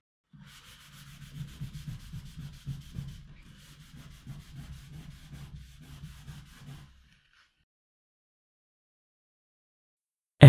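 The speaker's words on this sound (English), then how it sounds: "you take a piece of paper or cloth and you rub it on the surface of your leather to remove the excess pigment" Cloth rubbed back and forth over freshly dyed leather to lift excess pigment, a steady scratchy swishing in repeated strokes for about seven seconds, close and fairly quiet, then silence.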